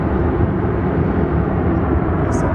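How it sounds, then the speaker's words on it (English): An airplane passes overhead near Denver International Airport, a loud, steady low roar that fills the whole moment without speech. "I guess that's a plane going overhead"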